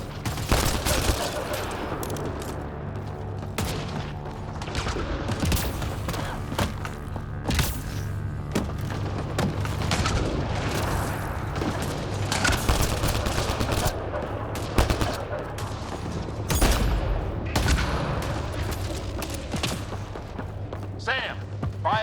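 Allied gunfire in Mass Effect Andromeda combat, rapid bursts of rifle shots and sharp cracks firing continuously, with occasional heavier thumps and booms mixed in, loud and close.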